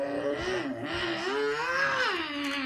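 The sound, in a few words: car engine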